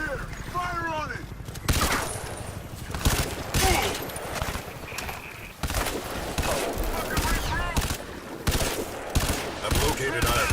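Bursts of automatic gunfire and sharp shots in the shooter game Crysis 3, in rapid volleys mixed with shouted voices and game effects.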